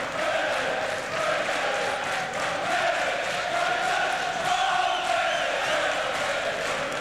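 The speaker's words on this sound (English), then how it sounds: "More like a football crowd than a boxing crowd." Boxing match crowd in 1993 roaring and cheering like a football crowd, a dense continuous wall of voices and whoops holding steady loud throughout.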